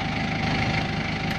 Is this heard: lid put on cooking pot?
no